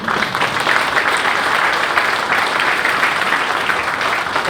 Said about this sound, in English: Round of applause to you, all of you.